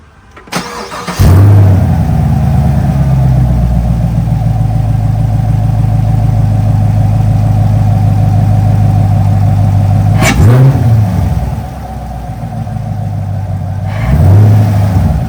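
A Camaro LT1 engine with a cold air intake cranks and catches, settles into a loud steady idle, then gets revved twice with rising and falling roars.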